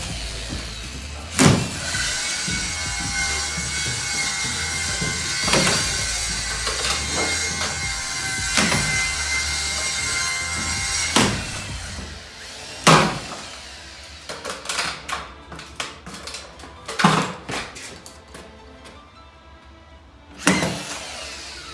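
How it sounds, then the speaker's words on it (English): Screws driven into plasterboard while drylining a wall, a long steady whirring drive followed by several sharp knocks and short bursts, close and loud with no talking. "Get a couple screws in there."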